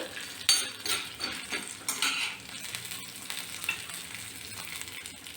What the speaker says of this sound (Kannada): ನೋಡಿ ಕಂದು ಬಣ್ಣ ಬಂದಿದೆ ಸಾಕು ಹುರಿದಿರೋದು